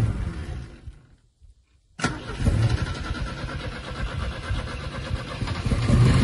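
A Chevrolet Chevette engine roars and revs loudly after a brief near-silent gap, sustained and close, with a rough mechanical drone.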